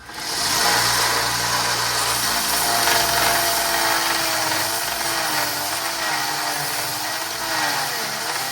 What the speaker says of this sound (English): I'm going to go ahead and hit the grinder right on that